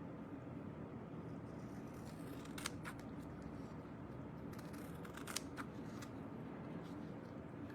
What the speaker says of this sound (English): What I like to do with that is just take some scissors to it.